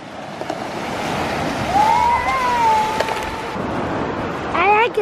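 Waves washing onto a beach during a family day out, a steady rushing surf with faint wind, while people talk and a voice rises over it near the end.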